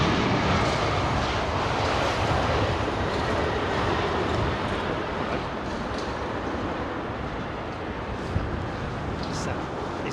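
Air China Boeing 777 at London Heathrow, a steady broad distant jet roar filling the background while a person talks over it.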